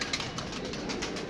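Pigeons on a rooftop feeding spot cooing and fluttering in a steady, close murmur, with soft wingbeats mixed into a continuous busy bird background.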